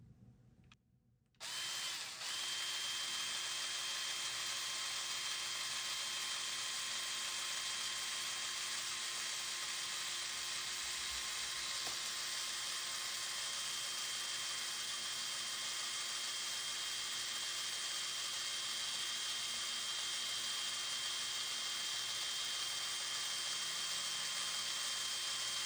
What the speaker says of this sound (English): Hook it to my drill